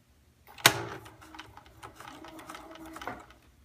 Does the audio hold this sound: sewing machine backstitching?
yes